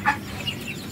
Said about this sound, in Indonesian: Ini jenis peranakan hewan unggas mentok dan ayam.